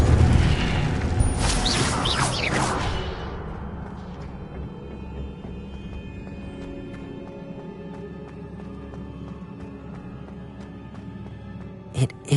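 A fiery Incendio spell cast in a Harry Potter video game erupts in a loud whooshing blast for a few seconds, then fades into a quiet, lingering hum with a small knock near the end.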